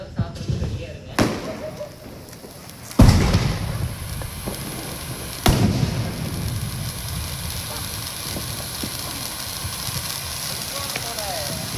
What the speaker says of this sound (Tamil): சுற்றி சுற்றி வெடிக்கிறாங்க